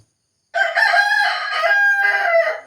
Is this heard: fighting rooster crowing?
yes